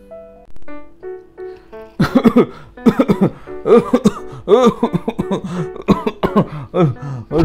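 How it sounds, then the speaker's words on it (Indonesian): A short musical jingle gives way to a person coughing hard and repeatedly, harsh raspy bursts in quick succession, close and loud. "Batuk udah lama gak sembuh-sembuh."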